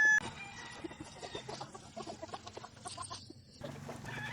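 Gamefowl chickens cluck repeatedly at close range, with short overlapping calls from several birds forming a busy, continuous flock chatter and no talking.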